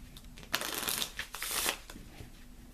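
A deck of Lenormand cards is shuffled by hand, giving quick bursts of riffling, flapping paper close up, several short rattles in an uneven rhythm with no talk.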